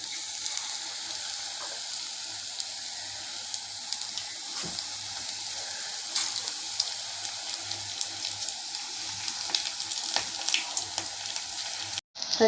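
Small rounds of Mysuru bonda batter fry in hot oil, giving a constant close bubbling sizzle with faint crackles and no voices.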